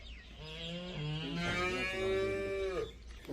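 A buffalo near a village well gives one long, loud, drawn-out moo with a rising then falling tone, close by and alone.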